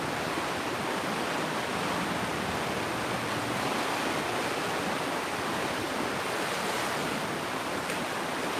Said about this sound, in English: Wow, that water is really flowing fast.